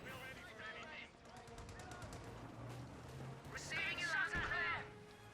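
Vickers machine gun firing in Company of Heroes 2 amid a battle, rapid rattling bursts mixed with other gunfire and battle noise, fairly faint under ongoing commentary speech.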